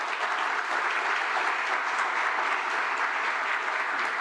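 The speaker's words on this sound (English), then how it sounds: "Please give him a round of applause." A conference audience at a Brookings event gives Jonathan Rothwell a round of applause, an even, dense wash of clapping that holds steady throughout at moderate distance.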